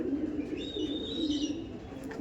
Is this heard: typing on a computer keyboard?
no